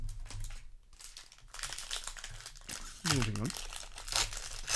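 A Magic: The Gathering Streets of New Capenna booster pack wrapper crinkles and tears open up close, crackling in short bursts while someone talks over it.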